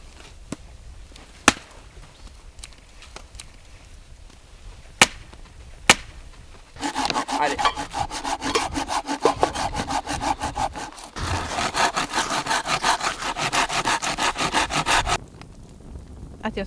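Firewood sticks being prepared at an outdoor camp in remote mountains: sharp, scattered chopping knocks first, then long stretches of loud, rhythmic back-and-forth saw strokes through wood.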